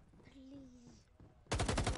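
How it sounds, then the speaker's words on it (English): Gunfire in the VR shooter Firewall Zero Hour: after a quiet stretch with a faint tonal whine, a loud, close burst of rapid automatic shots breaks in and keeps rattling to the end. "Somebody's shooting."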